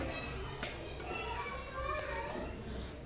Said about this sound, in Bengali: বাইরে সব ছেলেপিলে খেলা করছে